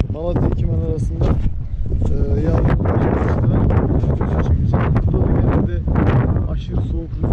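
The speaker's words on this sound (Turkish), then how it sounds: "aşırı soğuk rüzgar var." Extremely cold wind roaring across a high mountain pass between Malatya and Sivas, loud steady buffeting on the microphone throughout while someone talks over it.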